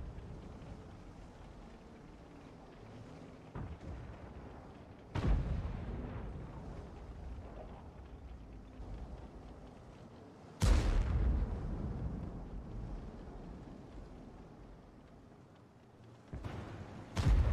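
Heavy artillery and shell fire booms in a tank video game, with several loud cannon blasts spaced seconds apart over a steady rumbling battle background.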